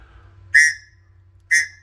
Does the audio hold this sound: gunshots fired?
no